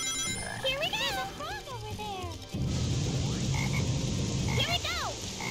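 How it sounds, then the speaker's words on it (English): A frog croaks in the Sonic Heroes video game, giving bursts of warbling calls near the start and again near the end, mixed with other game sounds and a voice talking. "There's a frog over there."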